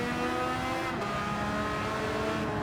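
A Porsche 911 GT3 RS (992) engine in Gran Turismo 7 drones steadily at high revs, loud and continuous, with a brief shift in pitch partway through and no talk over it.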